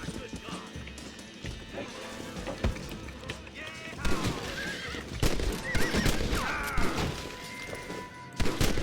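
Horse neighing and whinnying in the Red Dead Redemption western video game, with clip-clop hooves, gunfire-like thumps and crashes, and dense game action sounds; brief calls stand out against a busy, loud mix.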